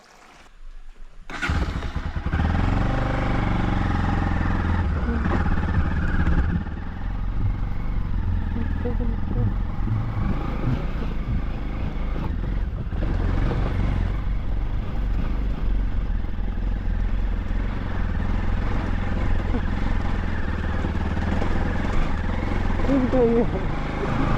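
A motorcycle rides off-road uphill with a steady, loud engine drone and rough clattering throughout, rising in effort as it climbs, with a voice talking over it.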